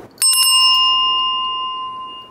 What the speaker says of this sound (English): ring the bell one more time to signal that you're done